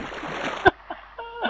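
Water splashing in Minecraft, played cooperatively on Xbox 360 in an underground ravine: one sharp splash midway, followed by softer watery blips, with a voice speaking briefly.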